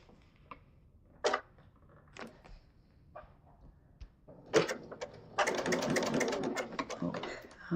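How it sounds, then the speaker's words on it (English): A sewing machine stitches quilt pieces for a pinwheel sampler quilt, starting with a few short stuttering bursts before settling into a continuous, fairly close run of rapid stitching, with soft room noise between. "let's go ahead and sew this together"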